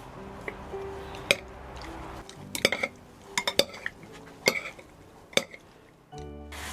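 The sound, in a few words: mixing seasoning ingredients together in a bowl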